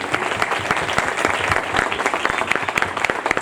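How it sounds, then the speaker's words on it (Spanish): Crowd applause at a political meeting, many hands clapping in a dense, continuous, fairly loud patter for a few seconds with no talking over it. "un aplauso para los compañeros"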